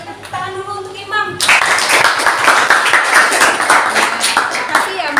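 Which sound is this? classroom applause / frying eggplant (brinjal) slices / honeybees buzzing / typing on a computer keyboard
classroom applause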